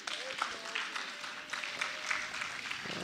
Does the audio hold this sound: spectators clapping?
yes